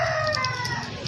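A rooster crowing at a neighbouring house beside a Pakistani family's home, a sustained crow at moderate distance running steadily through the clip without talk.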